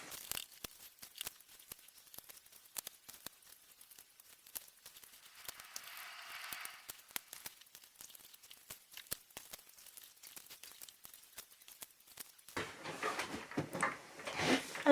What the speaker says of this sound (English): just stick on the stickers